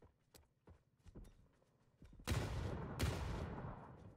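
Video game combat: scattered sharp gunshots, then a grenade blast bursts out loud, followed by another heavy boom that trails off into rumble.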